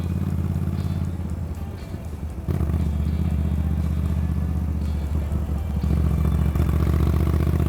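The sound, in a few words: Moto Guzzi V9 Roamer motorcycle engine while riding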